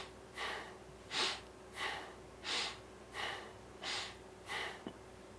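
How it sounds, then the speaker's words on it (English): Sharp rhythmic breaths, like biting the air, are drawn in a circular breathing exercise, six or seven close, clear pulses at an even pace with no talking. "so you're just biting the air"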